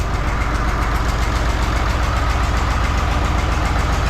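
An URSUS C3603P farm tractor engine idling at about 800 rpm, a loud, steady low chugging with an even knocking rhythm, close up and alone.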